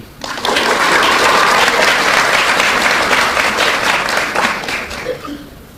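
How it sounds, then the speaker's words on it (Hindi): A large audience breaks into loud, sustained applause at a spiritual talk, dense clapping that swells quickly, holds for several seconds, then thins out. "एक बार ताली बजाओ।"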